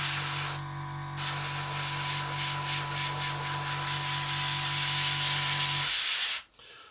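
Airbrush spraying green paint onto a Tamiya 1/48 scale Mosquito model, a loud steady close hiss with a faint compressor hum running for about six seconds before cutting off abruptly.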